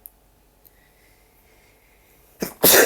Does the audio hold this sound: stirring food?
no